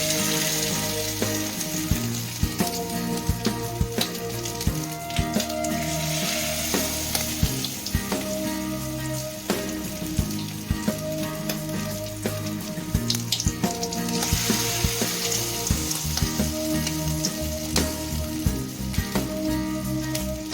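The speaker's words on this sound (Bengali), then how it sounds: "তেল গরম হয়ে গেছে, এবার গ্যাসটা কমিয়ে দেবো। কমিয়ে আমি ম্যারিনেট করা চিকেনগুলোকে দিয়ে দেবো।" Marinated bone-in chicken pieces fry in hot white oil over a lowered gas flame, a dense steady sizzle and crackle that stays loud and close throughout, dotted with sharp spits and pops.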